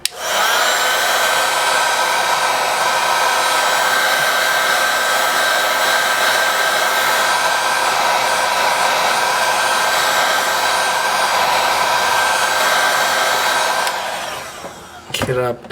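A heat gun or hair dryer blows steadily and loudly to heat the back glass of an HTC U11 phone. The whine holds constant and close for about fourteen seconds, then cuts off, leaving a few brief handling sounds.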